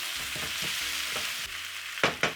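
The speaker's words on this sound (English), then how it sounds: "Give it a stir." Chicken drumsticks sizzle in a pot while a spoon stirs them, giving a steady hiss of frying oil broken by soft scraping strokes and two sharper knocks of the utensil near the end.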